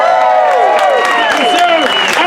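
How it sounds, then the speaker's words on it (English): Loud applause and cheering from a theatre audience at a Macbeth performance, with whoops and shouting voices layered over steady clapping throughout. "Lady Macbeth goes away to thunderous applause."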